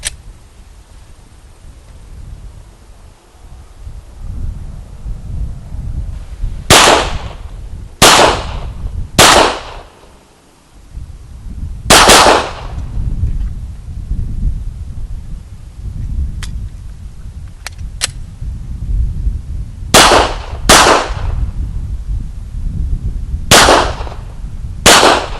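Glock 20 pistol fired outdoors, sharp loud single gunshots in irregular clusters, three, then one, then two and two more, with quiet outdoor ambience and faint clicks between shots.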